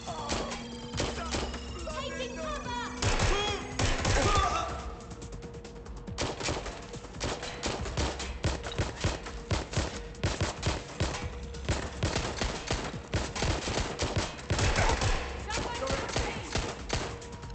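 Bursts of automatic gunfire and rapid single shots from the Watch Dogs: Legion video game, loud and nearly continuous, with a player talking over the action.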